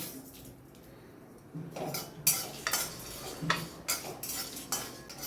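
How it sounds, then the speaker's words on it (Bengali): Whole spices frying in mustard oil in a hot wok, with a light sizzle and repeated metallic clinks and scrapes from a spoon stirring them, close, with no talking. "প্রথমে কড়াই গরম করে নিয়ে সমস্ত গোটা মশলা একটু ভেজে নিচ্ছি।"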